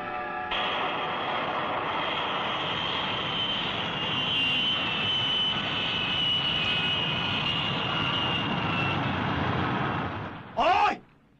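A steady, loud aircraft engine roars continuously during a landing, a sound effect from the Japanese tokusatsu series Return of Ultraman, cutting off near the end before a short burst of voice.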